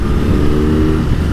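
A 2021 BMW R NineT motorcycle engine rumbles loud and near with a deep, steady throbbing exhaust note, a brief burst without speech.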